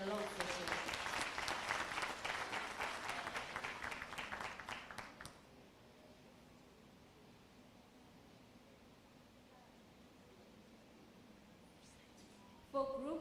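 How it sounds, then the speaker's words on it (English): A round of applause at a fraud and corruption imbizo session brings about five seconds of brisk massed clapping, which then stops abruptly into quiet room tone with a brief sound at the very end. "Can you give her a round of applause?"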